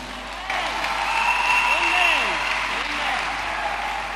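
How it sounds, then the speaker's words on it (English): A church congregation applauding, a steady wash of clapping that swells and holds for several seconds while a voice speaks over it. "Let's put our hands together for this God. Let's appreciate him. Let's applaud him."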